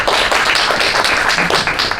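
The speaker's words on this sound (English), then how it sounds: "So a huge round of applause for them." A university forum audience applauds the student staff, a dense, steady wash of many hands clapping close and loud, with no voices over it.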